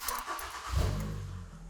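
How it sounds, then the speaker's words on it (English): Ford Escape with a power steering fault cranking and firing up, a short starter whir then a low engine catch that settles into a steady idle, fairly quiet and close. "Start the engine."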